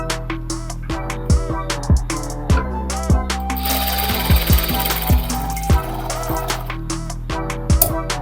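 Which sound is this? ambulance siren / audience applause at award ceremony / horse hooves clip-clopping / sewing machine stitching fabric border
sewing machine stitching fabric border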